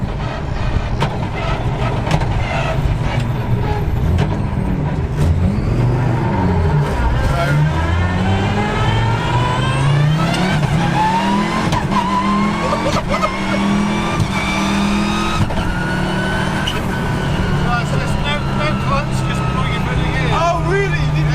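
Road legal rally car with a sequential gearbox, engine revving and climbing through the gears, loud inside the cabin, heard under ongoing conversation between occupants.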